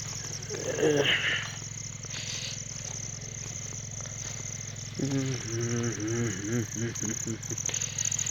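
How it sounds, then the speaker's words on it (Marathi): Crickets chirp steadily on a farm at night, with a machine running faintly and a voice speaking in the middle of the clip. "रातकिड्याचा आवाज येत असेल तुम्हाला."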